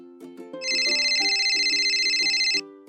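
A telephone rings with an incoming call during a call-in show, a steady electronic ring rising over a tonal background and holding loud and continuous for about two seconds before cutting off.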